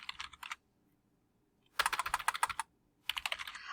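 Computer keyboard typing in bursts of rapid, close key clicks, separated by brief pauses, with no voices present.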